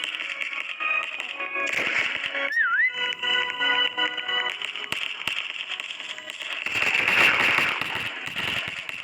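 Whistling fireworks let out a sharp, wavering whistle among scattered pops and crackles, ending in a loud, dense burst of crackling near the end.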